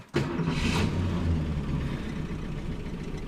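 A 1965 Mustang coupe with a 289 V8 and automatic transmission, a farm field find, cranks and fires up, then settles into a steady, loud, rumbling idle close by.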